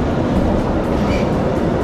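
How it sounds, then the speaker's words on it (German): A train rolls past close by beside the Rhine-Herne Canal, a loud, steady rumble of rail traffic with no speech over it. "Und jetzt fährt der Zug hier auch noch vorbei."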